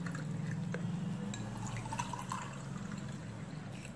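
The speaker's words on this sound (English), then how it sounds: "Now we pour out this mixture into the two bowls." Karpuravalli banana juice mixture is poured into two bowls, giving a soft, continuous liquid trickle with faint drips over a low background hum.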